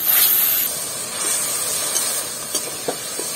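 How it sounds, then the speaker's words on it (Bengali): Ground onion paste hits hot oil with whole spices for a paneer masala, giving a bright, continuous hiss that eases off, with a few small pops near the end. "বেটে রাখা পেঁয়াজটা দিয়ে দেবো। পেঁয়াজটা একটু লাল লাল করে ভেজে নেব।"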